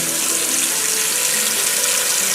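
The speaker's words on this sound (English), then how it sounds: "put some water in here." Tap water runs hard into a cooking pot holding potatoes, a loud, steady hissing splash that fills the whole stretch without letup and without talk.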